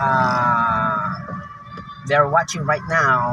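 A Philippine Army camp siren sounds the hour in the distance, a steady wailing tone held under close talking, fading briefly before voices take over.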